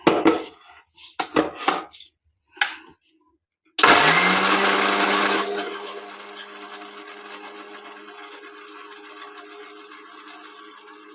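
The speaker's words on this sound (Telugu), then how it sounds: "ఇది ఫైన్ పౌడర్ అయ్యేంత వరకు గ్రైండ్ చేసుకుందాం." A mixer grinder grinds roasted curry leaves and spices into a fine powder in a home kitchen, starting abruptly with a loud whirring roar that settles into a steadier hum, after some brief clatter.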